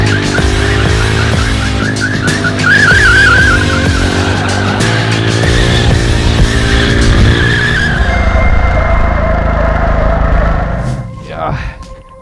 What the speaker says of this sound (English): let's warm up the tires with some rolling burnouts